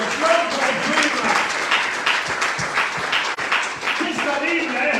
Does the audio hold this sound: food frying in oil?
no